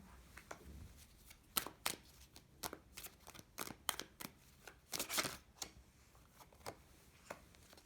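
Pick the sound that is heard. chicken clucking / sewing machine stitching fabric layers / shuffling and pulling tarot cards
shuffling and pulling tarot cards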